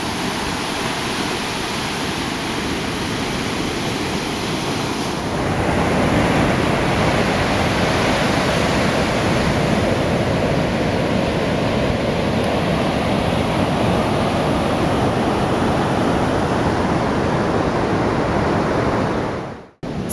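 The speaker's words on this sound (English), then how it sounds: "I'm always coming out here too late to catch Matt getting any really great waves." Ocean surf crashes in a continuous heavy roar of breaking waves on the Oaxaca coast of Mexico, swelling slightly louder partway through, then cutting off abruptly.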